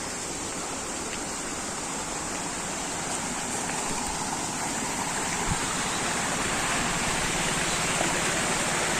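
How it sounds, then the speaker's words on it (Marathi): A small waterfall in a green Konkan village during monsoon rain, a steady broadband rush of falling water, close and unbroken, without any talking. "एक धबधबा इथे, छोटासा धबधबा आपल्याला दिसणार आहे"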